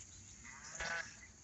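Cattle on a farm at sunset, with one faint, brief moo-like call rising over a low outdoor background.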